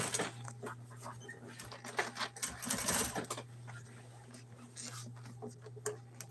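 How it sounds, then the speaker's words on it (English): A sewing machine stitches fabric close by, running in short bursts over a steady low electrical hum, with light handling noises around it. "Push and sew."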